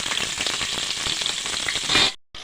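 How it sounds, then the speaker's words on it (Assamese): Onions sizzle loudly and close in refined oil with bay leaf and dried chilli inside a pressure cooker, a dense continuous frying hiss that cuts out abruptly near the end before resuming. "পিঁয়াজখিনি দি দিম, পিঁয়াজখিনি দি ভাজি লওঁ।"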